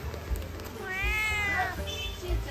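A cat gives one drawn-out, close meow over a low, busy street background, with soft thumps before and after.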